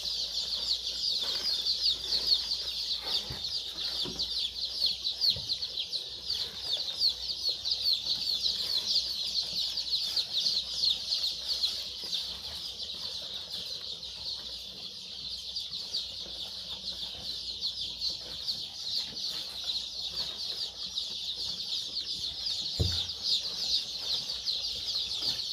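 Chicks and chickens in a poultry brooder keep up a steady, dense chorus of high peeping and clucking, with occasional wing flaps and faint background noise, and no talking.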